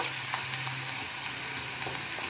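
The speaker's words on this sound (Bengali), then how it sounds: "একদম ভালো করে ফ্রাই করে নিচ্ছি যাতে পেঁয়াজের কাঁচা গন্ধটা যেন না থাকে" Onions frying in a pan for a restaurant-style hot garlic chicken, giving a steady, close sizzle with a low hum underneath and a few faint scrapes.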